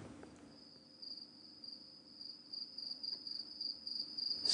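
Crickets chirp in a steady, high-pitched continuous trill, thin and moderately quiet, with a faint low rumble beneath and no voices.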